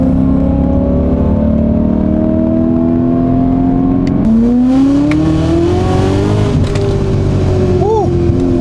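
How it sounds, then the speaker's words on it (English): Supercharged BMW E90 M3 pulls hard, its engine note climbing steadily in pitch through a loud, continuous run with a shift-like break midway and a higher, rising whine afterward. "So we got this E90 M3 here, and it's not just a regular M3, it is a supercharged M3."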